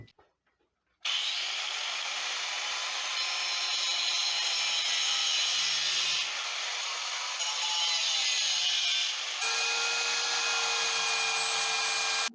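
Power tool cutting down an exhaust pipe for a 1974 Charger, a loud, steady abrasive whine that runs alone for about eleven seconds after a short pause, with slight shifts in pitch partway through.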